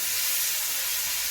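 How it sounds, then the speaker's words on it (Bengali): Plantain pieces, salted and coated with turmeric and wet with their own released water, sizzle in a hot frying pan as a steady, close, hissing crackle with no pauses. "আর এখন ভাজা করব কলাগুলো দিয়ে দেবো এর ভিতরে"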